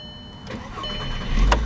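A 2007 Volkswagen Rabbit with a 2.5 engine, five-speed, about 80,000 miles, cranks briefly and catches, its idle rising quickly and growing louder near the end, heard alone.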